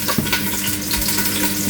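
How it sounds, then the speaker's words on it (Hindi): Onions frying in oil in a home kitchen pan for nihari, a steady close sizzle with a brief stir or clatter near the start. "अब हम डालेंगे इसमें प्याज"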